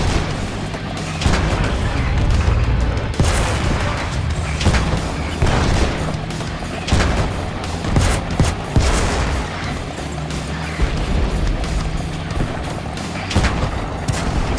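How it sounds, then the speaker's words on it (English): Explosions and tank gunfire from the World of Tanks Blitz video game keep booming in a dense, continuous barrage of heavy blasts and sharp shots, loud and overlapping throughout. "Explosions light up tanks all around"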